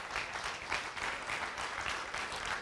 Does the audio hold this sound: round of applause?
yes